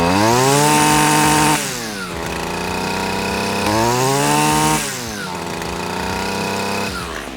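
Stihl FS 94 R string trimmer engine revving loud and close with the throttle locked, rising twice to a capped pitch and easing back to a steady idle-like drone between pulls.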